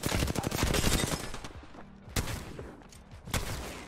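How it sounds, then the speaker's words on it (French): Loud automatic weapon bursts crackle in a fast Apex Legends firefight, a dense rapid volley at first, then thinning into a few separate sharp shots. "Y'a un rafale."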